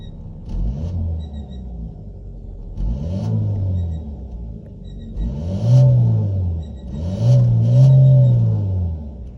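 A 2022 Chevy Equinox RS with a 1.5-liter turbocharged four-cylinder engine starts and idles, then revs in several rising and falling rumbling pulls, close and fairly loud with no talking.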